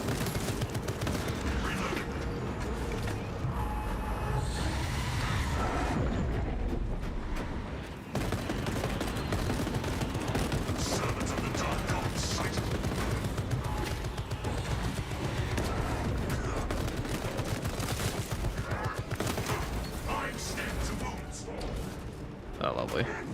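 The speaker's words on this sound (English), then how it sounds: "That's a pretty nicely placed turret there." An automated sentry turret in a sci-fi shooter fires a steady, dense stream of rapid shots that continue almost unbroken, with someone talking over the gunfire throughout.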